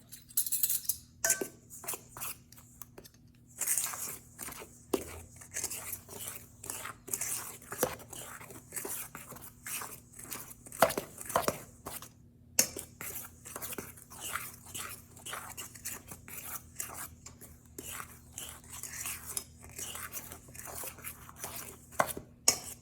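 Dry scone ingredients with coconut sugar being mixed in a bowl, giving a steady run of soft, quick scraping and tapping strokes at close range, with no talk.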